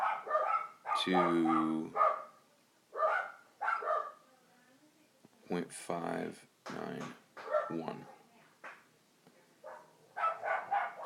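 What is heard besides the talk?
dogs barking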